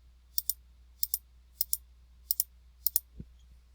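Computer mouse clicks arriving as five evenly spaced double-click pairs, sharp and close with silence between them, followed by a single soft low thud.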